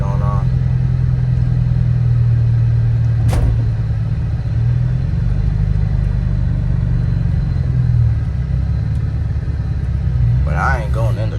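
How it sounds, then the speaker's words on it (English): Low, steady engine rumble from a 2013 Dodge Charger R/T while driving, continuous and fairly loud throughout, with a brief sharp noise near the middle and faint tonal sounds at the end. "hear the car. Let me know if y'all can hear it real quick"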